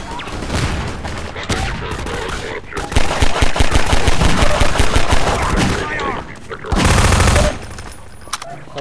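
Loud, dense automatic gunfire from the Half-Life 2 Synergy co-op game, with rapid bursts and heavier blasts, continuous throughout and briefly peaking near the end.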